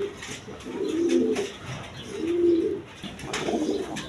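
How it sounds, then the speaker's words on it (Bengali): A matched pair of Sapchila pigeons, male and female, coo close by in three swelling, throaty phrases separated by brief pauses. "এক পেয়ার সাপচিলা কবুতর আছে"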